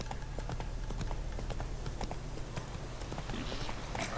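Horse hooves clip-clop in the video game The Witcher 3, a steady rhythmic run of soft hoof strikes over a constant low game ambience, moderately near and without talk.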